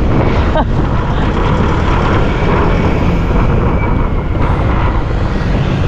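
A motorcycle ridden along a road toward a roundabout in Calaca, its engine and rushing wind forming a loud, steady, close drone that runs unbroken throughout.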